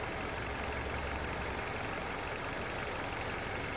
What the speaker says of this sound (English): leave it running, idling in park on a level surface